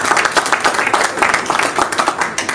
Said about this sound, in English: Let's give a big round of applause, please.